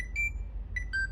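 A Nintendo Switch 2 startup chime: a few bright, clean electronic tones in two pairs, the first pair a short rising blip and the second a matching two-note figure, close and fairly soft with no talk.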